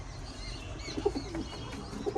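Pet pigeons settled inside their coop coo softly and intermittently, low throaty calls rising out of a steady rumble of background noise.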